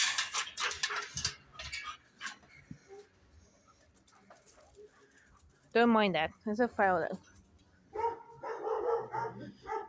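Big dogs give a short run of whimpering, whining yelps and scattered barks near a house gate, with someone talking before and between the sounds.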